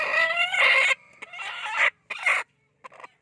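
A native brooding hen clucks close up in a coop, with a few drawn-out, harsh, tonal calls followed by shorter clucks, alone without talk.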